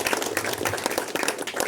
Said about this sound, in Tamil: அந்த குழுக்கு மனமார்ந்த நன்றியை கைத்தட்டி சொல்லுங்கள்